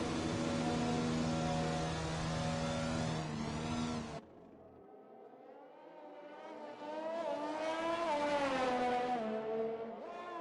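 F1 race cars in the F1 game at the Azerbaijan Grand Prix scream at high revs, one close whining pass cutting off sharply, then another engine climbing and gearing up before fading, with no talk.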